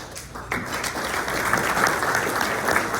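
An audience at a community morning event honoring police and fire applauds officials as they are introduced, a dense wash of clapping that swells after a brief quieter start and holds steady.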